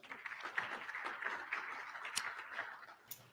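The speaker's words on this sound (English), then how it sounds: "So please join me in a quick round of applause for all of our sponsors." Audience clapping at a property management summit in Minnesota, a brief, faint round of applause as a steady patter of many hands, thinning toward the end.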